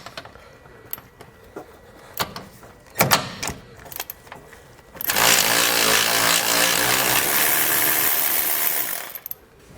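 An 18mm socket drives bracket nuts off the frame of a 2014 Ford F-250. It opens with scattered metallic clicks and knocks, then a loud, continuous whirring power tool runs for about four seconds before stopping.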